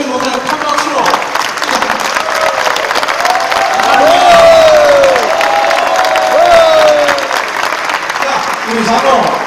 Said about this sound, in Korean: 자 일어나서 우리 유승민 목사님 큰 박수로